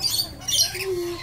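Brief, harsh bird squawks and chirps at Fort Fisher, fairly close, with a short raspy call rising and a sustained tonal note near the end.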